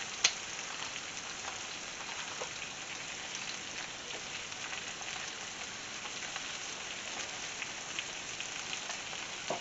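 Broth poured into a hot skillet of braised chicken with tomatoes, giving a quiet, steady sizzle and crackle with faint pops, continuous and without speech.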